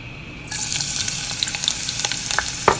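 Chopped onion hits two tablespoons of hot oil and erupts into a loud, close, steady sizzle, with faint crackles and pops scattered through it.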